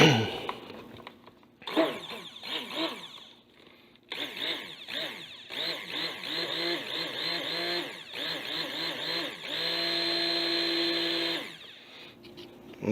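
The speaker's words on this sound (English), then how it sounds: "stick blender" A stick blender whirs in a thick batch of homemade shampoo soap, running in loud close bursts with short pauses, its motor pitch rising and dipping as it churns, then holding one long steady buzz before it stops.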